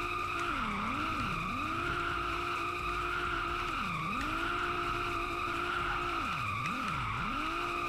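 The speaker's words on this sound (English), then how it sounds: "I was drifting my 350Z" A Nissan 350Z drifting in a video game, its engine droning steadily throughout while tire skids squeal and swoop in repeated waves, loud and close with no talking.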